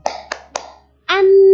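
Three sharp hand claps in a quick, even rhythm, close and crisp, followed by a pause and then a voice starting to chant.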